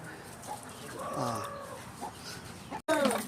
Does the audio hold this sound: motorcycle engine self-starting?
no